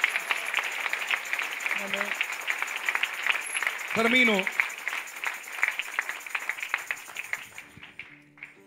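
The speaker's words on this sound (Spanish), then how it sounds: "Aplaude la gloria de Dios." Church congregation at an evangelical service applauding steadily, a dense patter of clapping that fills the room, with a brief spoken word and a voice cutting through near the end.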